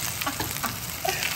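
Onions and vegetables sizzle and fry in a cast iron skillet alongside potatoes and sausage, a steady close crackling hiss with small pops and no talking.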